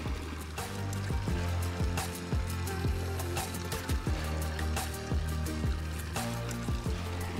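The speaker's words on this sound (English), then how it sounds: "I absolutely love this water feature. It's made of zinc, as a matter of fact." Water trickles and splashes steadily in a zinc garden water feature in a formal London garden, a continuous close babbling flow with no voices.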